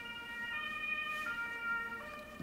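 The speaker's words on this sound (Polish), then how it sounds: "karetka akurat przyjeżdża" An ambulance siren wails steadily at a moderate distance as the vehicle arrives, its held tones swelling slightly and fading over a low background of road noise.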